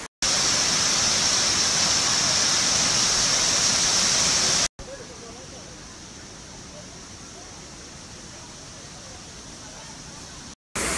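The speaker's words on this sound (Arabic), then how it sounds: "شلال جميل، ذكرني بشلال دودان بأنطاليا في تركيا" A waterfall in Croatia pours in a loud, steady rush of flowing water, heard as two separate takes, the second softer and more distant.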